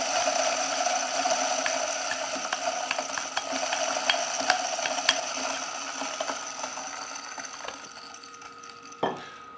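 A Timemore Sculptor electric coffee grinder grinding at about 900 rpm, a steady close mechanical whir with gritty crackle running throughout, easing off near the end with a brief clunk.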